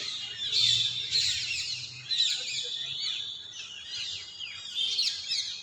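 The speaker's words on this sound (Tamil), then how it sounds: "கிளிகள் மற்றும் காக்கையின் காதல்" Parrots and crows calling in a park in Mayiladuthurai at evening, a steady stream of shrill chirps and squawks overlapping continuously, fairly near and prominent.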